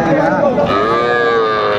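At a cattle market, a young bull calf gives a loud, close, drawn-out moo that lasts the whole moment over low background noise.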